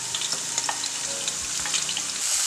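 Two medium chopped onions fry in three to four tablespoons of oil for a soya chunks style eggplant recipe, giving a steady, close hiss of sizzling with faint stirring scrapes throughout.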